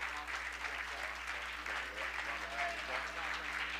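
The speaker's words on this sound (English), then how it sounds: "let's receive Brother Minister Nuri Muhammad with a warm round of applause" A warm round of applause from a gathered audience receiving a minister as speaker, fairly faint and steady with a low hum beneath and some voices mixed in.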